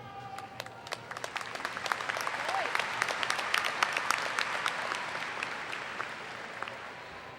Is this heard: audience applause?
yes